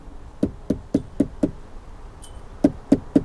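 Eight sharp hollow knocks on the hard plastic door armrest of a Seat Ibiza, close up, in two quick groups with a short pause between, no voices.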